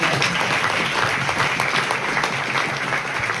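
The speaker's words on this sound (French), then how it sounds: "Donc on applaudit bien Jean-Pierre." Steady, dense audience applause fills a film festival screening hall at L'Étrange Festival, loud and even throughout with no break.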